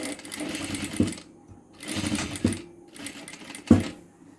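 A sewing machine stitches a child's frock in three short bursts of rapid, whirring needle strokes, each separated by a brief pause, close up and moderately loud, with no talking.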